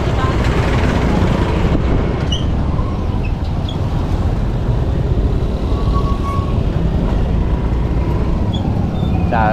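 Morning road traffic crawls near a busy market, heard as a loud, continuous low roar of engines and road noise that stays level throughout.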